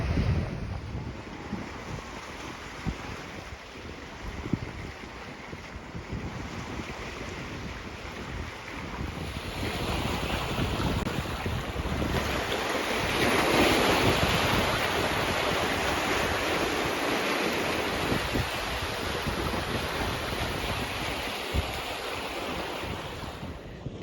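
Rough waves wash against a jetty on Lake Huron under strong, gusting wind that buffets the microphone, a dense continuous roar of surf building louder midway with no voices.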